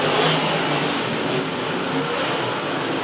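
Race cars running nose to tail at Lake Cumberland, a steady, loud mix of engines roaring together at mid distance, with no voices over it.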